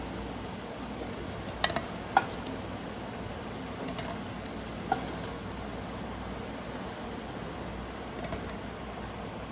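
Potatoes frying in hot oil give a steady, even sizzle close by, with a few faint clinks of a utensil against the pan.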